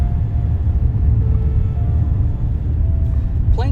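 A low, broad roar of an airplane passing overhead fills the whole stretch at steady loudness, with faint tonal hums riding on top and a brief bird chirp near the end.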